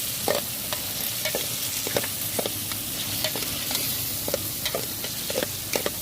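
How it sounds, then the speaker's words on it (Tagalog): Tomatoes and garlic sauté in a hot pan while being stirred, a close steady sizzle broken by regular scraping and tapping of a utensil against the pan, with no talking. "Pinag-alo-alo ko lang guys yung kamatis sa bawang."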